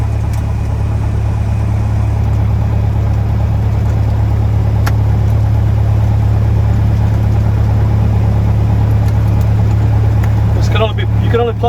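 A small aircraft's engine runs at a steady, loud, droning idle while the plane prepares to taxi for departure, with a few faint clicks toward the end.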